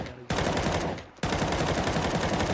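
An AK rifle in a video game fires in two loud sustained bursts of rapid automatic gunfire, the first brief and the second longer, sprayed through a wall, with no voices.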